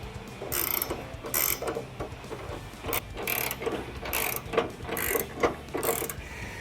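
Ratchet clicking in repeated bursts while tightening rock slider bolts on a Nissan Xterra, close and steady, each stroke a quick run of sharp pawl clicks with short pauses between.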